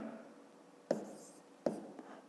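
Pen or pencil strokes on paper while working through a fifth-grade maths exercise, two distinct short scratches and a faint third, close and quiet with no talk.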